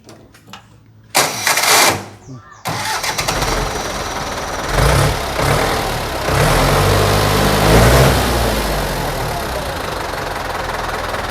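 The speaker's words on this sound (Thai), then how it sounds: "เดี๋ยวผมจะให้ลุงสตาร์ทให้ฟัง เสียงเครื่องนะครับ" A Ford farm tractor engine cranks and catches after a short quiet stretch, then settles into a loud, rough, knocking idle close by with a few surges in revs.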